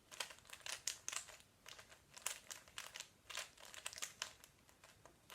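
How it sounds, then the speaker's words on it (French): A 3x3 Rubik's cube being scrambled, with quick bursts of plastic clicks and crinkly rattling in an irregular rhythm, close but faint, with no voice. "Donc, première étape, ça va être de le mélanger."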